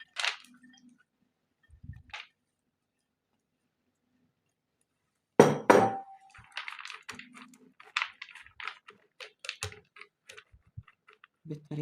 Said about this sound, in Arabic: دلوقتي هنحط بقى السوداني بتاعنا